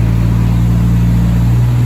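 A Toyota Supra MkIV's turbocharged, non-VVTi 2JZ-GE six drones loudly through its exhaust, holding a steady, even note with no break and no talk.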